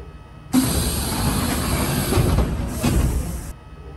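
A steady Seoul Metropolitan Subway Line 1 train rumble and whine in the OpenBVE train simulator runs for a few seconds with a high electric tone, rising slightly in the middle before cutting off.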